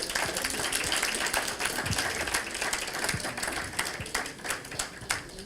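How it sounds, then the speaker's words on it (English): Faint applause from an audience at a property and lifestyle expo, a light patter of clapping with a few sharper claps standing out. "Let's give them a round of applause as they come."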